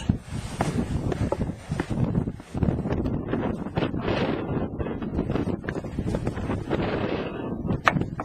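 Wind gusting across the summit of Pen Yr Ole Wen, a mountain in Wales, buffeting the microphone in a loud, rough, continuous rumble with uneven surges throughout.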